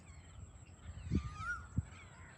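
A bird caws twice from a distance, short harsh calls over quiet outdoor background noise by water.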